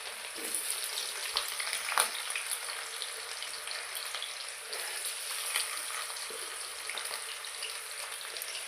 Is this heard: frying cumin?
yes